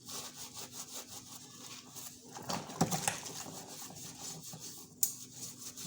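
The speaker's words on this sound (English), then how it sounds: "I'll just scrub it." Rhythmic back-and-forth scrubbing of the outer ring of a paraffin stove, close and fairly quiet, with a few brief metallic knocks.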